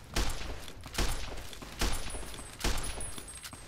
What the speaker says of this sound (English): stop with the fucking shooting, will ya?